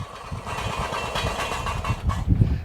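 Small lawn tractor engine idling nearby, a steady low chugging rumble that swells slightly toward the end, with no talking.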